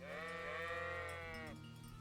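Sheep in the video game Kingdom Come: Deliverance 2 let out a single long, wavering bleat, fairly close over a steady low ambient hum, with no talk over it.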